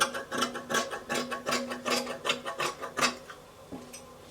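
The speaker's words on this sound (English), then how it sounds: "I will cut out the back neckline as well." Dress fabric is cut along the back neckline with a rapid, even run of crisp snipping clicks, close by, slowing and thinning out near the end, with no voices.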